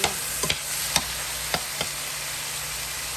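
Ground turkey browning in a metal pan makes a low, continuous sizzle, broken by a handful of sharp utensil taps and scrapes spread through the clip.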